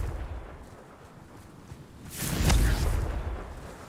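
Confringo fire spell in Hogwarts Legacy lets off a single booming blast after a quiet stretch, a burst of low rumble and crackle that swells and then fades over about a second.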